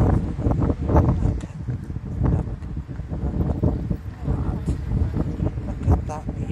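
Gusty wind buffeting the microphone outdoors at the Weymouth seaside on a cold day, a rough continuous rumble with uneven surges throughout, with a person talking underneath.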